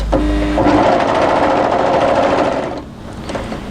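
A sewing machine runs in a fast, continuous burst while stitching around the outside curve of a pocket on a winter tee dress, then slows and stops near the end.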